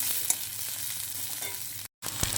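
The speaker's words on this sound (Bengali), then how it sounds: "সামান্য একটু সর্ষের তেল দিলাম একটা ছোটো পেঁয়াজ আর একটা লঙ্কা কেটেছি এটা একটু বাদামি করে ভেজে নেব" Chopped onion and chili frying in mustard oil, a continuous bright crackling sizzle with a brief dropout near the end, then the hiss resumes.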